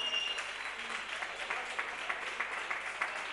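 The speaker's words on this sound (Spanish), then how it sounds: "Por favor, un fuerte aplauso para ellos." Audience applause at a beatbox battle in Huelva, a dense, steady clatter of many hands filling the room, with a few whoops breaking through over the roar.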